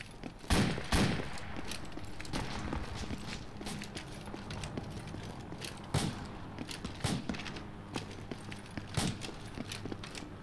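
Bursts of video game gunfire from a military shooter mission in Fallujah, sharp cracks and short volleys spread across the clip at moderate distance, over a steady background rumble.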